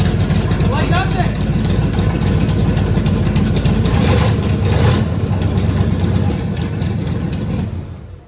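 A blown-up, seized V8 in a car runs loud and close, a rough idle with a heavy low rumble and several surges of revving, while people talk over the engine.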